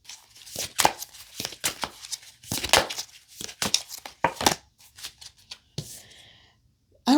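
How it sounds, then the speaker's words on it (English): A large, oversized deck of tarot cards is shuffled by hand, producing irregular bursts of sharp riffling slaps and papery rustles with brief pauses between handfuls. "this is the way I have to shuffle this deck because it's so big"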